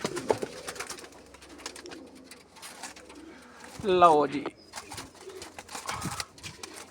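High-flying pigeons coo softly in a loft, with a brief burst of calls near the middle amid handling noise, while someone speaks intermittently over them.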